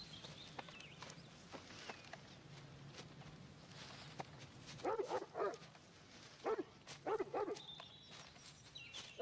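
A dog barks and yips in a few short bursts midway through a TV drama scene, over low room hum, with faint footsteps and quiet background activity.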